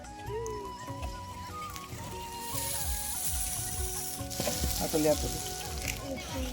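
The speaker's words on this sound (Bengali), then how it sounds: "এবার আমরা ভাতটা ঢেলে দেবো।" Cooked rice tipped into hot ghee in a pan for Bengali fried rice, a rising sizzle that builds midway and crackles louder near the end, with clinks of a utensil and someone speaking.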